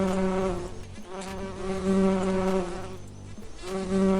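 Bees buzz steadily and loudly up close, a droning hum that swells and dips over a few seconds with no talking.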